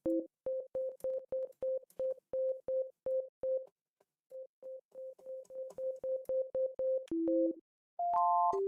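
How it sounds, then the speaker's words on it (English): Sine waves from a synthesizer patch, built while making a Pultec EQP-1A EQ clone, sound as a run of short, evenly pulsed steady tones that pause midway, resume, and end in a brief sustained cluster of pitches. "right now I have just a bunch of sine waves that sound stereo"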